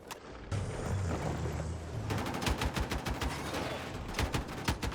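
SG 553R rifle fire in Battlefield 6, rapid automatic bursts of sharp cracks in quick rhythm, fairly close, over a busy battlefield background.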